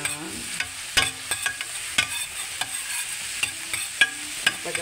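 Onion in a hot frying pan for sweet spaghetti with chicken, a close, steady sizzle broken by repeated clacks and scrapes of a utensil stirring against the pan.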